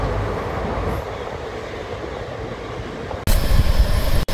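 A train rumbles steadily close by with a broad roar. Near the end it abruptly grows louder and harsher, cuts out for an instant, then resumes.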